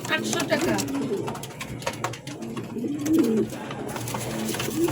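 Pigeons coo in a pen or market setting, soft rolling calls repeating at close range, heard beneath someone talking over them.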